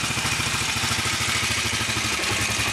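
A rebuilt four-stroke Kawasaki Brute Force ATV engine idles steadily nearby, a loud, even throbbing pulse with a faint mechanical clatter and no talking.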